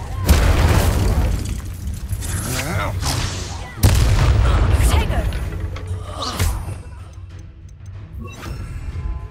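Combat in Hogwarts Legacy: an Incendio fire spell and other spells go off as loud booming blasts and crackling bursts, mixed with sharp impacts and a voice speaking between them.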